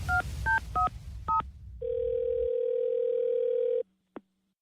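A telephone dials out for a radio prank call on Kiss 97.3: four quick touch-tone beeps, a steady dial tone for about two seconds, then one short blip.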